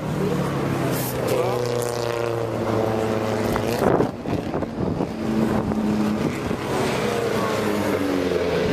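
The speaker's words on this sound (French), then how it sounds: "Une voiture rentre au stand, c'est la numéro 52, cette Morgan." Morgan racing car at Le Mans Classic pulling into the pits, its engine droning loudly with shifting pitch and a brief dip midway, under a French commentator's voice and wind noise.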